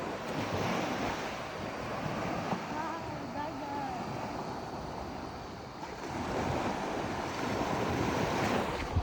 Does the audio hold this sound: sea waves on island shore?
yes